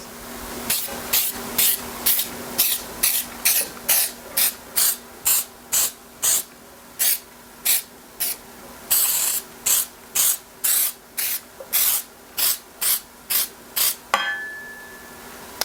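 Baker's Joy baking spray hisses onto a cake pan in around twenty short, even bursts, steady and close, with a brief pause midway before the last few sprays and a faint clatter at the end.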